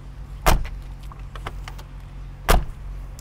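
Two solid, heavy thuds of a Mercedes G500 door shutting about two seconds apart, with faint clicks and rattles in between.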